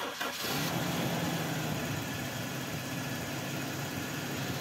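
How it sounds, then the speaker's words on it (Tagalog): Toyota Revo engine cranking over and catching right after an oil change and engine flush, then settling into a steady, loud diesel-like idle that runs on alone with no talk. "start ko na itong makina."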